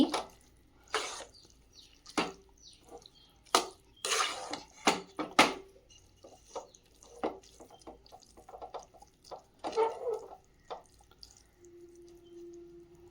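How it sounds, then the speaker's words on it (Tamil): A spoon clinks and scrapes against a metal vessel while curd rice is mixed, a series of irregular close knocks and wet stirring sounds with short pauses. "அது சாதத்தை நல்லா மிக்ஸ் பண்ணி விட்டுடுங்க"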